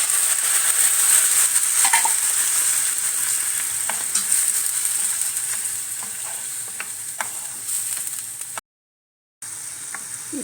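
Boiled mutton sizzles and fries in a pan for a Tamil uppu kari, a steady loud hiss with scraping stir strokes throughout and a brief dropout near the end.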